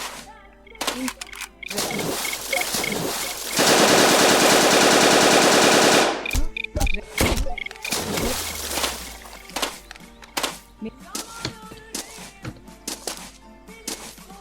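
Rapid automatic gunfire from an online shooter game bursts in a long dense stretch, surrounded by scattered single shots and thuds, with players talking over the action.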